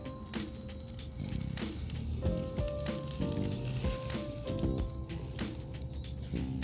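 Lamb shank sizzling and spitting on a hot grill, with a steady close crackle and scattered pops running throughout, no voices.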